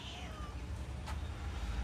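A faint meow from a small young cat, short and thin against a quiet background hum.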